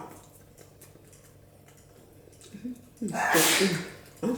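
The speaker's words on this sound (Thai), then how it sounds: "ไม่ใช่พวกเขาจามหรอกลูกชายจาม" Someone sneezes once, loud and close, over a quiet, hissing background in a kitchen where straw mushroom soup is being made.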